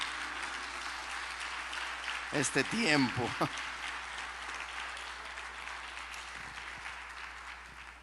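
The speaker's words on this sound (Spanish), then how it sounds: "Démosle un aplauso al Señor" Church congregation applauding during a sermon, a steady broad wash of clapping throughout with a voice speaking briefly over it partway through.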